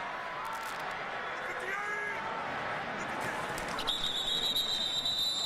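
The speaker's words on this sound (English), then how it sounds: "And now whistles prior to the snap." A referee's whistle shrills at an NFL game between the Cowboys and Packers just before the snap, a short sharp tone near the end over a steady stadium crowd murmur.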